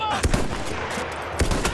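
Two loud, sharp rifle shots from Battlefield 1, a powerful one-shot weapon, crack out about a second apart with a short rumbling tail after each over steady game background noise.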